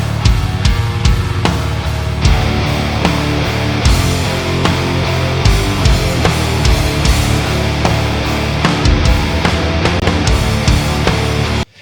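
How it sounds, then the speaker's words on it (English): Dense, loud electric guitars play a full-band riff with regular rhythmic accents, continuous and close throughout, ending abruptly. "Guitars sound like this."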